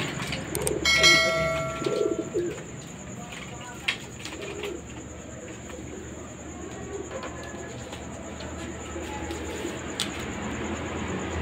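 Racing pigeons in crates before a derby, with soft, low cooing that runs steadily through the clip under distant background noise and a few faint clanks, while people talk nearby.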